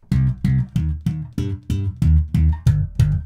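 Punchy slapped bass notes playing a minor triad one after another in a steady rhythm, about nine plucks, each with a bright percussive attack and deep ringing tone.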